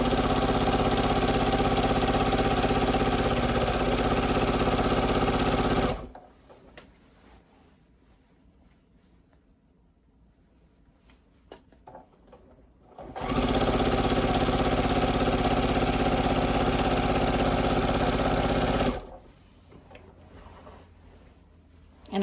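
A sewing machine runs flat out while quilting fabric rows, a dense steady whir for several seconds, then a near-silent pause, then another long full-speed run that stops abruptly.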